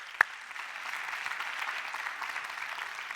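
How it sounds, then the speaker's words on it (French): Steady applause from an audience at an e-health awards event greeting the winning project, a dense even patter held at moderate level for a few seconds after one sharp knock at the start. "Qu'on peut applaudir très fort."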